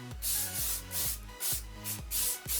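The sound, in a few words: L'Oreal Studio Pro volume hairspray being sprayed on hair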